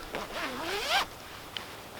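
A double zipper on a budget backpacking sleeping bag is drawn in one smooth, rising pull lasting about a second, followed by a faint click, and no one speaks.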